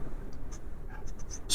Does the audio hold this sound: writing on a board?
yes